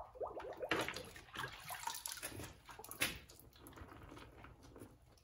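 Water splashes and swirls as a car wash soap container is rinsed out nearby, uneven gushes and sloshing bursts that fade toward the end.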